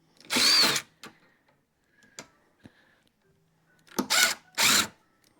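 A power drill drives a screw into a wooden workbench in short, loud bursts, one near the start and two close together near the end, separated by faint clicks and quiet pauses.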